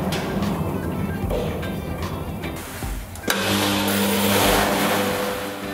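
A diesel heater cannon starts up with its fuel pump running, first a steady mechanical whir, then a sharp click and a louder motor hum with a droning tone, close by.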